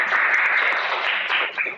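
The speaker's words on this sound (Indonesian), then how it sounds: "Oke, tepuk tangan." A short round of clapping from a group of students, a steady, even patter lasting under two seconds and then trailing off.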